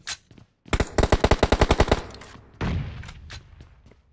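Automatic gunfire in PUBG Mobile, one rapid burst of about a dozen evenly spaced loud shots. A second, rougher blast follows. No talk is heard.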